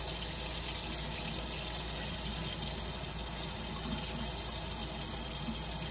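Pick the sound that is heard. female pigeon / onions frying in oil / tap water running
tap water running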